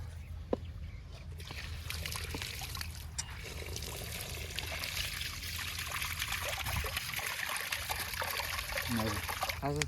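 Water trickles and pours steadily at close range into a chicken's cavity, with faint sloshing and a brief murmur of voices in the background.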